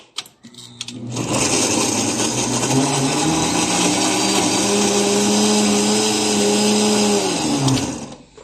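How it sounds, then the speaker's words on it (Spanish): A blender whirs steadily for about seven seconds blending sautéed chili peppers, its motor pitch dipping slightly as it churns, then spins down; no talking. "En la licuadora, lo vamos a proceder a licuar."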